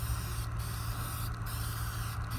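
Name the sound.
spraying glue back and forth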